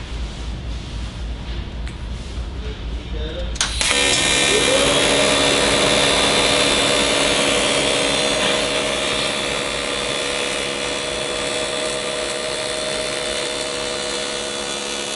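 A Miller Electric Syncrowave 300 TIG welder using a 1/8-inch tungsten strikes an arc after a few seconds of quiet, then holds a loud, steady buzzing hiss with a faint tonal hum until the end.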